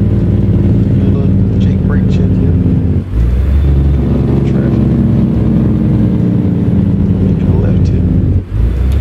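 Heavy truck engine braking in American Truck Simulator, a loud continuous low droning rumble with brief dips around three and eight and a half seconds, steady throughout.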